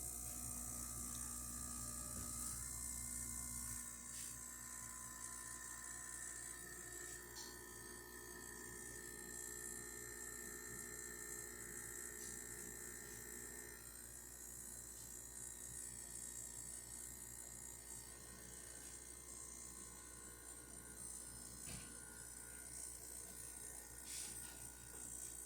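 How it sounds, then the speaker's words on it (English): A Gaggia Classic espresso machine pulls a shot with a steady pump hum and faint mechanical rattle that stays even throughout, quiet and continuous with no talking. "I'm just going to do a demo to show that the machine can get up to pressure and pull a nice shot"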